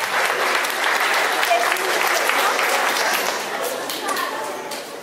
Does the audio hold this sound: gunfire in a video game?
no